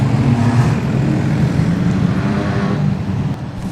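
Production sedan race cars at Kingaroy Speedway roar together in a loud, steady engine drone, with no break over the few seconds as the pack gets going.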